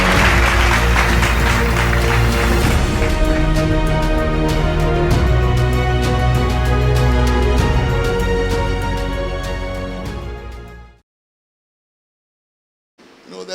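A guest is welcomed with clapping mixed into loud, sustained music, the crowd's claps pattering over it for about ten seconds before everything cuts to silence.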